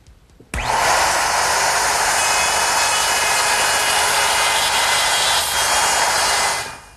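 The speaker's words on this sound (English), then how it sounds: "using the same router bit, I'm just going to route away the material for this half of the tenon" A router cuts into wooden rail stock to form a tenon, starting abruptly with a loud, steady high-pitched whine that holds for several seconds before cutting off near the end.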